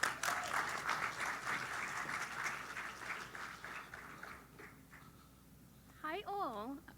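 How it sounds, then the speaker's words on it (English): Conference audience applause at a React Miami event, a loud burst of clapping that tapers off after about four seconds, followed by a quiet pause and a short whooping vocal sound near the end. "Everybody give them a round of applause"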